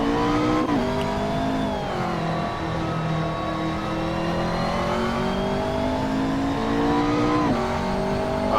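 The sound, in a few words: race car engine in Assetto Corsa video game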